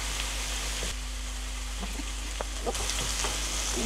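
Pork sautés in a pan for Filipino afritada, a soft, steady sizzle with a few light clicks and taps, fairly quiet beneath a constant low hum.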